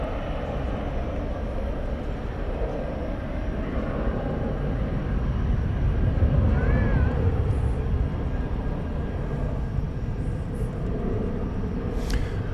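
American Airlines Airbus A320 from 2000, arriving at DFW airport at night from Omaha, heard as a steady, moderately distant jet rumble and whine that builds gently toward the middle, with faint background voices.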